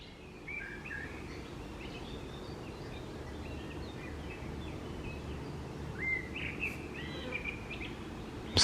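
Scattered bird calls and chirps in a quiet German woodland near Baden-Baden, several thin, fairly distant phrases over a soft steady background hush.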